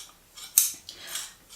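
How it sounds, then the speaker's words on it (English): Tailor's fabric shears snip in a few quick, crisp metallic cuts spaced roughly a third of a second apart, close and isolated with no talking. "And of course we have the shear, which is the fabric scissors."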